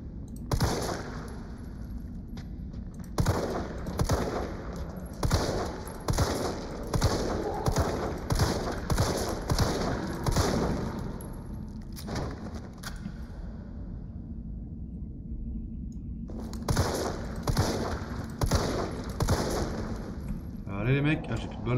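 Rapid bursts of automatic gunfire in the Resident Evil 3 remake, loud repeated volleys with a short lull in the middle before firing resumes.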